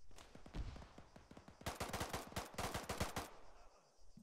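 Rapid gunfire during a firefight in the military game TSB OP: Krazovian last stand, with bursts of automatic shots cracking in quick succession and a dense volley in the second half, fairly faint, with no voices.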